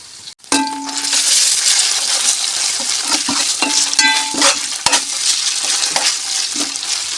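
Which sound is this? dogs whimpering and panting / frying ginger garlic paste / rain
frying ginger garlic paste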